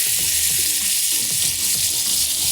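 Sliced onions frying in a pan until golden, a loud continuous hiss and crackle of sizzling oil with faint stirring underneath.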